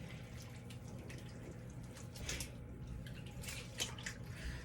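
Rye grain stirred by hand into water inside a 15-quart plastic tote, giving a steady wash of sloshing and dripping with brighter splashy bursts, close up and with no voices.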